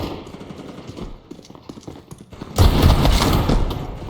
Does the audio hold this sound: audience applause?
no